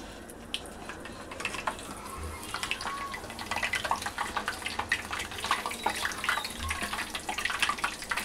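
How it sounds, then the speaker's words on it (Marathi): Puris fry in hot oil, with a continuous, moderately quiet crackling and popping sizzle from water meeting the oil that grows slightly busier over several seconds. "तेल पाण्याचा झारा असल्यामुळे थोडं तडतड वाजते"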